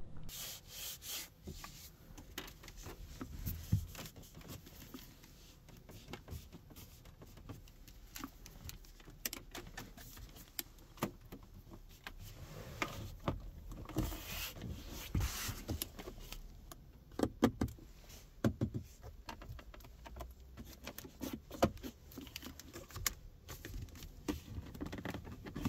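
Soft creaks, rubs and small rattles of piano-black plastic interior trim being pressed in a 2024 VW Tiguan 2.0 TDI 4Motion R-Line, quiet and close, with occasional light clicks and no talking.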